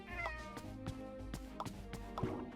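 A pet cat meows several times inside a home in the video game Wonderbox. The short meows sit over a steady game music bed with no talking.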